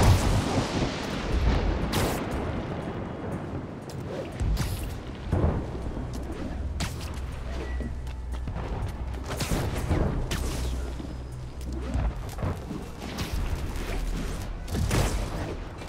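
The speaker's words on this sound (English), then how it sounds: "Leave me alone, lightning." Lightning strikes in Marvel's Spider-Man crack and boom repeatedly over a rumbling city backdrop, loud, sharp broadband bursts recurring every few seconds.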